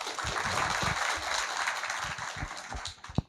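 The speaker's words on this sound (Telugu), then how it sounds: "clap for your self" Audience clapping at a Telugu spiritual talk on the Mandukya Upanishad, a moderately faint, steady patter of applause from a crowd lasting a few seconds.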